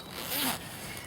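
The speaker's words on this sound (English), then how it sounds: "we can then undo the main zip, and then we unzip the fleece liner" A zip being undone on a 5.11 Tactical 5-in-1 jacket, a single quick close rasping pull of the zipper teeth lasting under a second, with no talk over it.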